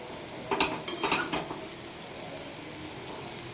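Palm fritters (taler bora) frying in oil in a pan and being turned over, a steady close sizzle broken by a few scraping clatters of the spatula flipping them.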